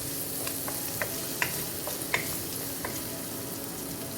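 Onion fries in rendered sausage fat in a pan for Southern fried cabbage, giving a continuous even sizzle with a few light utensil taps and scrapes.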